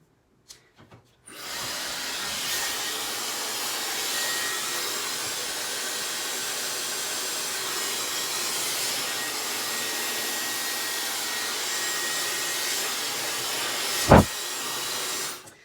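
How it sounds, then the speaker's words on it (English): A blow dryer drying hair over a round brush starts after a short pause and runs as a steady, fairly loud whirring hiss, ending with a brief sharp knock near the close. "On almost every blow dryer, there's a cool button."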